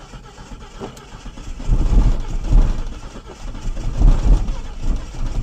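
A Ford XF ex-ambulance, off the road for six years with a loose distributor, cranking in uneven surging bursts, its engine rumble swelling and fading repeatedly, close by.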